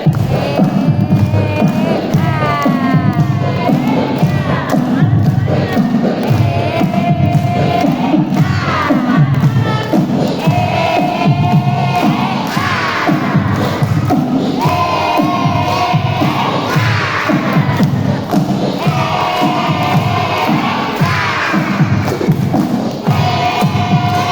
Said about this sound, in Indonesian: Tepuk tangan yang meriah buat semuanya